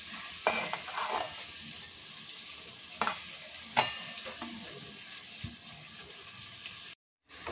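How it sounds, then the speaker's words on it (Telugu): Onions sizzle in a frying pan, close and steady, with sharp scraping stirs breaking in now and then, before a brief moment of silence near the end. "ఉల్లిపాయలు వేగిపోయినాయండి."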